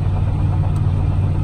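1997 Chevrolet Silverado truck engine climbing a hill while holding fourth gear, a steady deep rumble heard from inside the cab, brief and constant.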